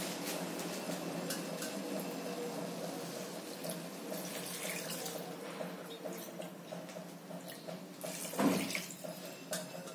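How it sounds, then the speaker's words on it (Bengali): Water pouring steadily into a cooking pot on the stove for prawn and potato pea pulao, a continuous splashing flow close by with no talk. "দিয়ে বাটির মাপে আমি 4 বাটি জল দেবো।"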